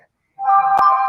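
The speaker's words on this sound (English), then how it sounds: "that was my phone letting me know that we are live" A phone gives a short electronic notification tone after a moment of silence. The tone is clear and close and sounds alone, with one faint click partway through.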